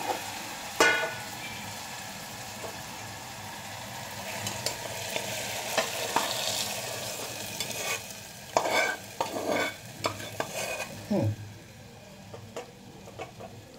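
A spoon stirs sajne (drumstick) flower curry with potato and eggplant in a frying pan: soft sizzling underneath, scattered scraping strokes and a cluster of louder clinks and scrapes near the end, close up with no talking.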